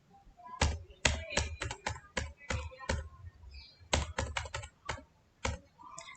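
Computer keyboard typing while entering a cash journal entry in Tally Prime accounting software: quick, crisp key taps in two close bursts separated by a short pause, near and loud.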